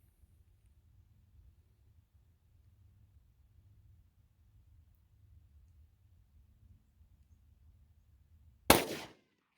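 A Glock 27 fires a single .40 S&W Federal HST 155-grain round: one sharp, loud report near the end after a long quiet stretch of low rumble.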